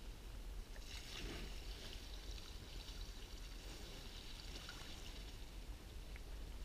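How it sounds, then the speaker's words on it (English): Lake water poured steadily onto hot campfire ashes outdoors in Mora, Sweden, a continuous close splashing and hissing wash that runs the whole time with no voices. "And as you can see, I'm putting on a lot of water."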